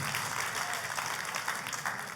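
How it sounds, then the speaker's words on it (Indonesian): Congregation applauding in a church service, a dense, steady wash of clapping that stays even in level for about two seconds. "Tepuk tangannya mulai yang paling meriah buat Tuhan"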